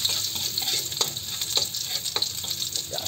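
Garlic and onions sautéing in a pan for kaldereta with pork belly, a steady close sizzle with scattered scrapes and clicks from stirring, no talk.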